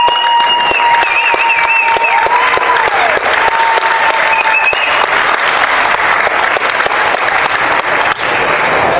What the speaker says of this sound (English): how about everybody stand up and give the good old United States a round of applause